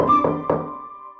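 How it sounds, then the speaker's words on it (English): Three quick knocks on a door, evenly spaced and fairly close, followed by a ringing tail that fades into quiet. "they heard a knock on the door."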